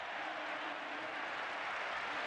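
A stadium crowd at a Real Madrid football match applauding, a dense, steady wash of distant clapping and crowd noise that stays even throughout.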